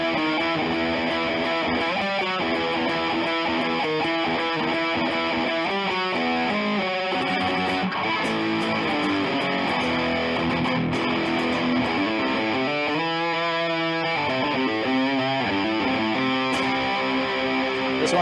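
An electric guitar played through a T-Rex Nitros Hypergain high-gain distortion pedal sounds continuously for the whole stretch, loud and saturated, with sustained chords and quicker lead runs.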